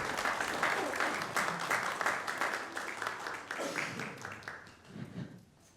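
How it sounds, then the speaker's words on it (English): A church audience at a Mother's Day service breaks into steady, dense applause, loud and sustained for most of the clip before thinning out near the end, with faint voices underneath. "Let's give them all a big round of applause."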